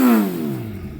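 A 2026 Suzuki Hayabusa with a non-stock exhaust revs hard on a dyno, its engine note sliding downward as it eases off, loud and close with no voices.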